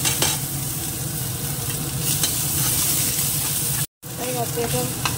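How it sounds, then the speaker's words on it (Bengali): Chopped garlic, green chilies and onion fry in hot oil with a dense, loud sizzle and crackle, briefly cut off once before it resumes. "এবার এই তেলের মধ্যে এটা মশলাদার করার জন্য এই রসুন কুচি আর কাঁচা লঙ্কাটা আগে দিয়ে দেবো।"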